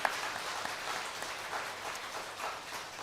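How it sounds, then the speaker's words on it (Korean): A church congregation at a Sunday worship service applauds in soft, continuous clapping that sounds faint and distant, as if heard from across the sanctuary. "우리 박수 한번 하겠습니다"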